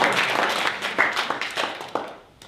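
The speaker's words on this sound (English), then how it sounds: "Round of applause, please." A stage-show audience claps in a dense burst of applause that thins and fades out within a couple of seconds.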